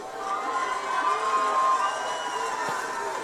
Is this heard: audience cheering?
yes